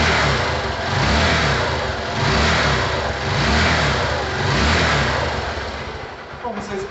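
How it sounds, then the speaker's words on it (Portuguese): A motorcycle engine runs steadily after its cylinder-head rocker arms were replaced, a loud mid-pitched drone that swells and eases in slow waves over about seven seconds, with faint voices in the background. "o resultado que nós temos, como vocês podem observar, a motocicleta em pleno funcionamento"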